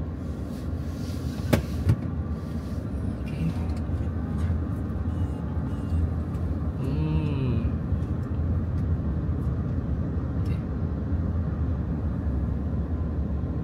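A Wuling Cloud EV electric car pulls away in Madiun: a steady, fairly loud low cabin and road rumble with no engine note runs throughout, with a few faint clicks and a brief whine partway through.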